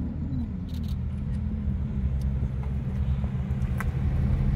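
A sports car arriving at a car meet, its engine rumbling low and steady with road and crowd noise around it, moderately near.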